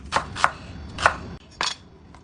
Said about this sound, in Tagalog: sinimulan ko na rin maggayat ng mga sangkap